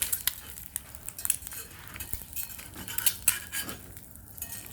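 A spatula works an egg in a camp cooking pan outdoors, making light metallic scrapes, clinks and taps in an irregular close-up sequence over a faint background hiss.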